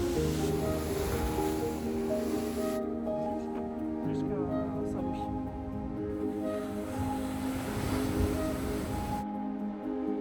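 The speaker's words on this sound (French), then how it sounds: "les vagues viennent finir leur course de manière spectaculaire lorsque l'océan est agité" Steady roar of ocean surf breaking against volcanic rocks on Réunion Island, a continuous wash of rushing water with a faint voice in the background.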